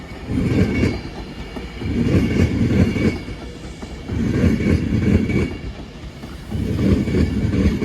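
An Avanti West Coast Class 390 train, unit 390040, passes at Crewe with a loud, rhythmic rumble as wheel sets roll over rail joints in regular swelling bursts.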